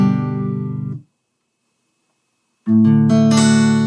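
An acoustic guitar is strummed on one chord, falls silent for over a second, then strums a second chord, loud and close with no voices.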